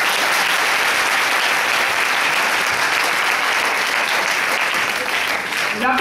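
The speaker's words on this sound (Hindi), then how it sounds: "एक जोरदार तालियां होनी चाहिए।" Loud, dense audience applause at a stage event fills the whole stretch, steady throughout, with a few voices mixed in beneath the clapping.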